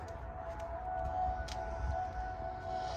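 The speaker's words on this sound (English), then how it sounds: "Let's look at the siren go off." A tornado warning siren sounds during a Minnesota tornado drill, a steady distant wail hanging over a hissy background of scanner static, with no voices.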